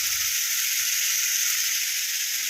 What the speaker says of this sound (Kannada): ಉಪ್ಪು ಹಾಕ್ಕೊಂಡು ಚೆನ್ನಾಗಿ ಫ್ರೈ ಮಾಡ್ಕೊಳ್ತಾ ಇದ್ದೀವಿ